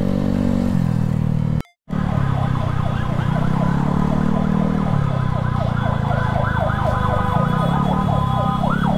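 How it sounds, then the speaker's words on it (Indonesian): A wailing ambulance siren sweeps up and down continuously, loud and close, passing a Honda Scoopy scooter at night in Makassar, over steady engine rumble, with a brief dropout near the start. "Jadi ini ada ambulans mau lewat, kita kasih lewat aja dulu boy ya"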